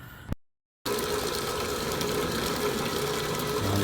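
A rewound Goulds water pump runs and pushes water, producing a dense, steady rushing and gushing noise at fairly close range, beginning after a brief dropout and continuing evenly.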